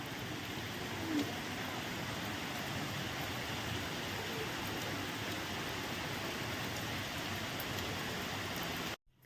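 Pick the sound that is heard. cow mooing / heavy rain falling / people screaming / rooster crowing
heavy rain falling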